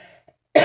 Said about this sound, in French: j'ai une tendance à tousser